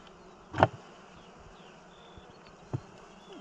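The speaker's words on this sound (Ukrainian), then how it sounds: "Бо тут бджоли є багато." Honey bees at a hive buzz close by with a soft, constant hum, while a single bee zips loudly past the microphone and another passes briefly near the end.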